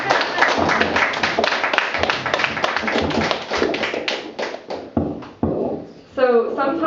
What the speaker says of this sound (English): Sure, you can clap.